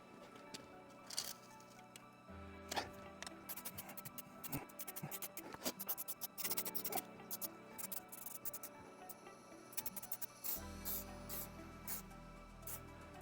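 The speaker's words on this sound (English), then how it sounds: "So you can see I'm just literally spraying it everywhere." An aerosol can of rust blocker sprays onto a Kawasaki ZX6R motorcycle in short and longer hissing bursts, close and fairly quiet, with scattered clicks and rustles between.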